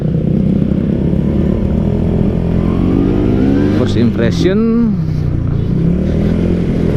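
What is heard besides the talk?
Yamaha RX-Z motorcycle with swapped Kawasaki Ninja RR engine revving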